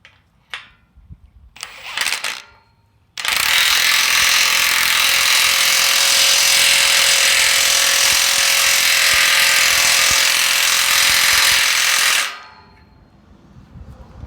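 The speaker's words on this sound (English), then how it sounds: "Just start torquing it in and should pull that piece in." A power tool runs steadily for about nine seconds, driving a bolt home on a trailer build welded with a Hitbox TIG 200, loud and close, then cuts off, with a few short bursts before it and quiet after.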